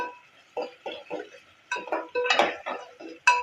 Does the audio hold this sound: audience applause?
no